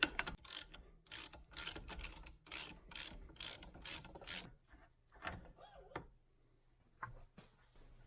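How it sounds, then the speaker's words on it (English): A ratchet wrench loosens the bottom nut on a 1998 Suzuki RM125 motorcycle fork, its rapid pawl clicking running in close, steady bursts before thinning to a few scattered clicks and light handling noises. "Next, we're going to take our bottom nut off."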